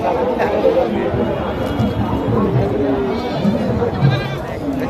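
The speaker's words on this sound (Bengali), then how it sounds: "কি হয়ে গেছে দেখেন, সব ছাগলই ভিজে গেছে ভাই" Goats bleat here and there at a rain-soaked goat market, their calls mixed into steady crowd chatter and someone talking close by.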